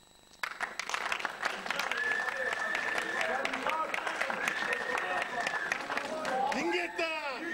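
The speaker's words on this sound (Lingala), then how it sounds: "nous allons applaudir lui" A crowd at a march against Kabila breaks into loud, sustained clapping and cheering that starts suddenly and holds steady for several seconds, then a shout rises at the end.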